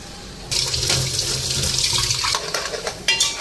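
Water streams into a mix of chili powder, salt and turmeric for cooking, a loud steady gush that starts abruptly and runs on with slight splashing changes, with no talk.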